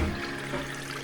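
Continuous rushing water from a forest stream near a waterfall, a steady dense wash of flow at moderate level with no pauses.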